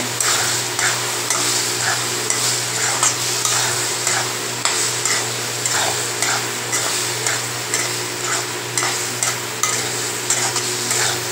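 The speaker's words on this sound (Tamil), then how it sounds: "மிளகாத்தூள் போட்டு நல்லா மிக்ஸ் பண்ணிக்கோங்க" A spoon stirs chili powder through tomatoes, onions and drumsticks frying in oil, giving a rhythmic scraping of regular strokes over a steady close sizzle and a low hum.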